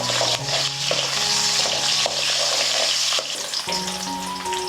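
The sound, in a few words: small onions sautéing in a pan for egg gravy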